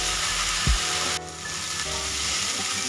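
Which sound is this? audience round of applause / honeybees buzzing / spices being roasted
spices being roasted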